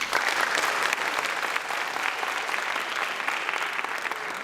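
Sustained applause from a large audience at an evening show featuring children's performances, a dense, steady wash of clapping with cheering mixed in throughout, loud and continuous with no pauses.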